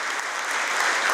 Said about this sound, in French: Un tonnerre d'applaudissements dans cet amphithéâtre de l'École nationale d'administration